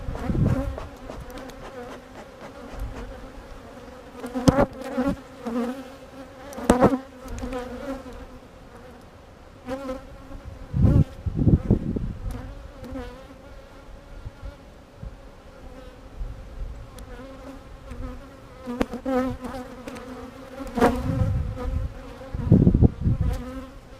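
Honeybees buzz steadily throughout an early-season hive inspection, a dense droning hum with louder swells as bees lift off frames and pass close by, no voices.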